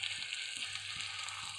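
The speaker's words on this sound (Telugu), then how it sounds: "దీనిలోని పచ్చి వాసన పోయేంత వరకు కొద్దిగా వేపుకోవాలి." Onion with ginger garlic paste frying in a pan, a steady soft sizzle throughout with faint periodic stirring taps, close and moderately quiet with no talking.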